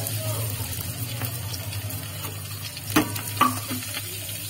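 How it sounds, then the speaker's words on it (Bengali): Prawns fry in hot oil in a pan, a low steady sizzle broken by two sharp utensil knocks near the end, heard close up. "চিংড়ি মাছ মোটামুটি আমার ভাজা হয়ে এসছে।"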